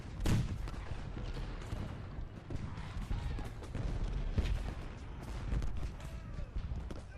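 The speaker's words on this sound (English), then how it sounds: "The artillery reserves are firing, but why not the battery?" Cannon fire from artillery batteries in the Civil War battle game Ultimate General: Gettysburg: a quiet, rolling series of irregular booms and cracks spread over several seconds, with no voices.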